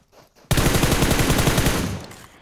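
A sustained burst of rapid automatic gunfire in the video game PUBG starts abruptly after a brief quiet moment, loud and continuous for about two seconds before tapering off.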